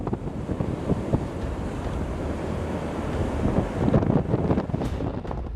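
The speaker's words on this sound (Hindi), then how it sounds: "समंदर में ऊंची ऊंची लहरें उठने लगी हैं।" Steady roar of Cyclone Yaas wind buffeting the microphone over crashing high sea waves on the Odisha and West Bengal coast, broadband and loud throughout with gusty swells toward the end.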